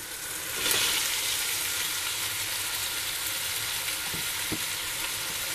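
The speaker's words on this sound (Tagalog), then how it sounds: "Medyo ipiprito natin ng konti ang ating pork." Pork sizzles steadily in a pan for pinakbet, a dense continuous frying hiss close by with a few soft stirring knocks, and no talking.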